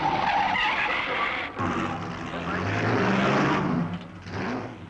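Race cars in the 1953 Mille Miglia road race, including a Ferrari, roar past with engine noise and tyre skidding, loud and close, with shifts in pitch as the car passes.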